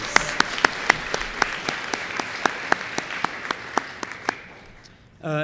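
Applause from an audience at an eighth grade promotion ceremony, with sharp distinct claps standing out over a dense wash of clapping that fades out toward the end, followed by a brief louder sound.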